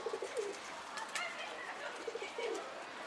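Pigeons coo outdoors in two soft, rolling calls at a moderate distance over steady background noise.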